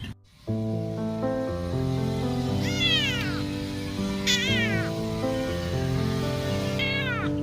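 A kitten meows repeatedly, three high, wavering cries standing out over a steady background of music.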